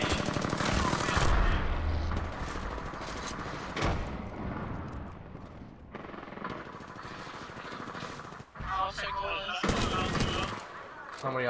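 Heavy gunfire from several players in the battle royale game Apex Legends, sustained overlapping automatic bursts and shots at close range, loud and nearly continuous, with intermittent game sound effects.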